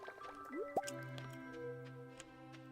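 Water poured into a pet's bowl in the farming game Stardew Valley, a short bubbly filling and dripping effect with a few squishy blips over soft, sustained game music tones.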